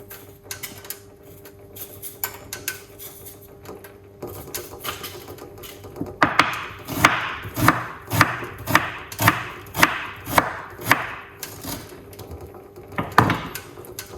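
A small piece of ginger chopped on a board in a home kitchen, a run of about a dozen crisp, evenly spaced knife knocks after some quieter handling and scraping, close and alone.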